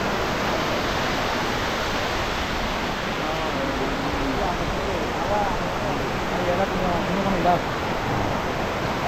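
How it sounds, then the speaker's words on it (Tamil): Shenbagadevi waterfall near Courtallam in Tenkasi pours down in a constant broadband roar, close and loud throughout, while a person talks over the rushing water. "தண்ணி இப்போ நல்லாவே விழுது."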